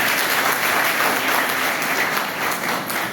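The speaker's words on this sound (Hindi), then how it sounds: "जोरदार ताली" Loud, steady audience applause fills a hall at a Hindi literary and civic gathering, dense clapping from many hands sustained throughout without a break.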